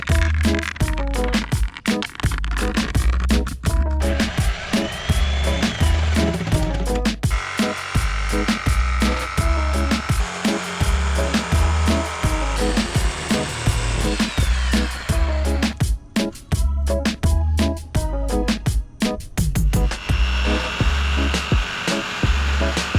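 Power tool cutting a D-shaped lid out of a fiberglass livewell top, a loud whining motor with rapid rhythmic chattering and bursts of grinding as the blade moves through the material.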